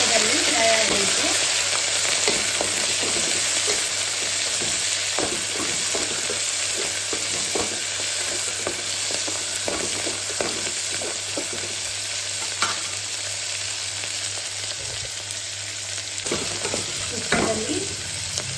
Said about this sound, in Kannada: ತುಪ್ಪದಲ್ಲಿ ಫ್ರೈ ಆಗಬೇಕು.